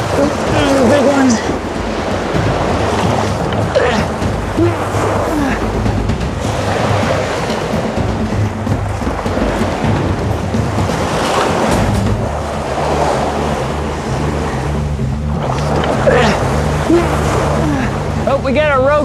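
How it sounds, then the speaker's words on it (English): Large ocean waves break and surge along the shore of Bear Island in Alaska while hunters unload gear, a continuous loud wash of surf with wind buffeting the microphone and a steady engine hum beneath. "These waves seem to be getting bigger."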